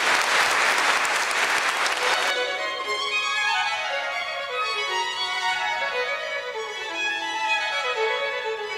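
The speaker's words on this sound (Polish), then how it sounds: "Wielkie brawa" Loud audience applause at an Oxford-style debate final, a dense burst of clapping for about two seconds that cuts off into music with a rising melodic line.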